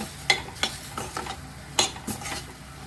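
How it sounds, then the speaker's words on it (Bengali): Tomatoes cooking with pav bhaji masala, a spoon scraping and knocking the pan in several sharp strokes over a soft sizzle, close and alone. "এবার আমি এতে 2 চামচ পাওভাজি মশলা দিয়ে দিলাম। এবার খানিকক্ষণ এটা কষিয়ে নেব।"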